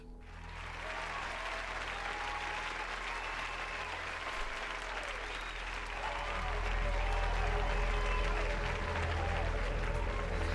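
Studio audience applauding during a comedy podcast, a sustained roar of clapping that swells louder toward the end, with a voice speaking underneath.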